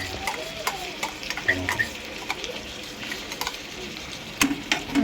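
Chicken curry masala stirred in a pan, Telangana style, with soft scraping and intermittent ladle clicks over a low sizzle.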